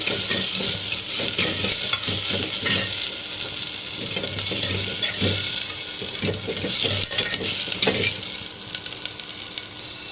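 Steady loud sizzling of tempering spices and coriander leaves frying in hot oil for drumstick sambar, with occasional stirring scrapes and crackles throughout, no voices.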